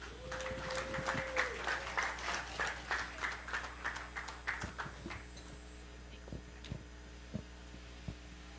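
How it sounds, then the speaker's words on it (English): Rhythmic clapping from an audience at an international AI education summit, rising into a steady run of claps over a low hum, then thinning out into a few scattered claps near the end. "let's give a power-packed round of applause to Miss Grace Chang"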